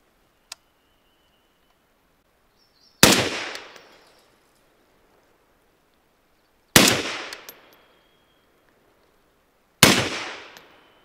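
Three suppressed rifle shots with a Quell Tech over-the-barrel suppressor mount, fired outdoors, each a sharp loud crack with a brief decaying tail, spaced about three to four seconds apart after a faint click.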